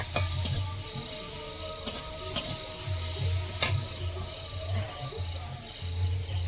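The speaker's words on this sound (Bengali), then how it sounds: "কড়াইতে যা তেল আছে ওর মধ্যেই পেঁয়াজ কুচিটা দিলাম।" Chopped onion dropped into hot oil in a wok, giving a steady loud sizzle with occasional sharp clinks and scrapes of stirring throughout.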